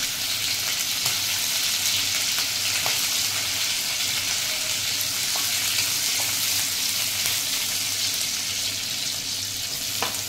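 Garlic and green chillies fry in hot oil for a Maharashtrian green bean bhaji, giving a steady, loud, close sizzle with faint stirring clicks. The sound runs evenly throughout with no voices.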